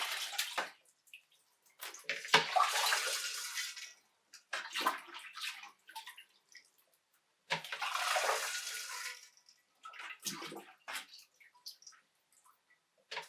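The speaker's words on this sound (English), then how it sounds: "I'm going to use a little pot to help get some sanitizer in there without spilling it all over the place" Star San sanitizer liquid poured and swished inside a wine fermenter from a small pot, heard as bursts of splashing and sloshing water separated by quiet gaps, close and moderately loud.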